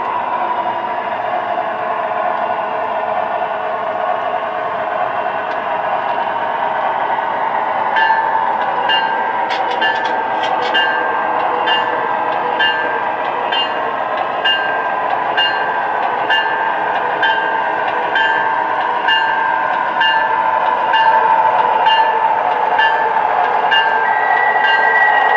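An MTH Pennsylvania GG-1 model train running through its passenger and freight announcement sequence, with a steady electric motor hum joined midway by a regular rhythmic clicking that repeats to the end.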